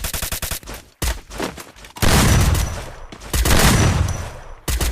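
Loud video game gunfire from a shotgun, heavy blasts and rapid repeated shots in several bursts separated by brief gaps, close and dominant.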